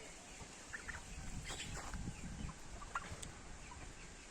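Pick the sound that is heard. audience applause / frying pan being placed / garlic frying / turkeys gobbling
turkeys gobbling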